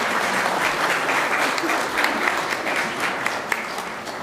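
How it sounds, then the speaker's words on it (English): A church congregation at a flower communion service claps in applause, a dense, sustained wash of many hands clapping at close to moderate distance, steady throughout. "You can clap your hands."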